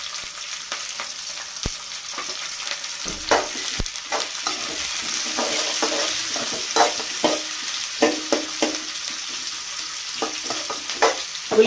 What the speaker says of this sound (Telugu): ఉల్లిపాయ ముక్కలు వేసుకొని బాగా వేయించుకోవాలి